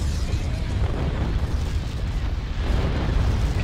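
Continuous low rumbling barrage of explosions from capital ships firing on missile launchers in a Star Wars space strategy game, a dense steady roar with no single blasts standing out.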